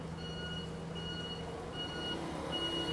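Warning beeper on a city bus idling at a stop in Taipei, sounding a steady series of high electronic beeps at regular intervals over a continuous low engine and street-traffic rumble.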